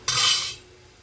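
Gourd leaves and potato tossed into a pan of browned fried garlic: a sudden loud sizzling hiss that swells for about half a second, then fades to a quiet simmer, with no talk.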